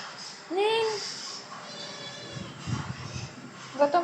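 A cat gives one clear, close rising-and-falling meow early on, followed by quieter household sounds and a person talking softly nearby.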